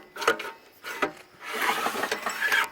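A recoil starter cord is yanked on a Manco Warrior buggy engine that has been stuck: two short, rasping pulls and then a longer, grinding pull, all close up with no voices.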